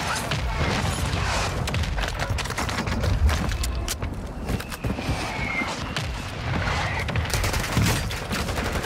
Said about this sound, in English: Watch the mortar strike.